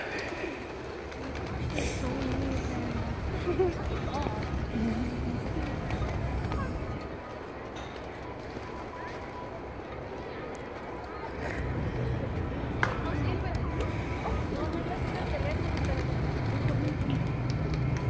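Pigeons coo and flutter close by in an outdoor spot with steady background noise, their soft calls recurring throughout.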